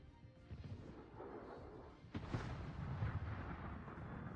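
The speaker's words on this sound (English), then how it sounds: "Conqueror took some torpedoes or got touched. Yeah, I think those were Gdansk torpedoes." A warship takes a hit from Gdansk torpedoes in a naval battle game: a low rumbling roar swells into a sharp booming impact partway through, then a heavier sustained rolling blast follows, with no talking.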